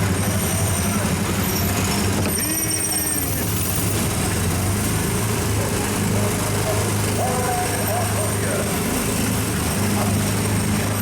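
Small Disneyland Autopia ride car engine droning steadily with a buzzy, lawn-mower-like tone throughout, close and loud, with people talking over it.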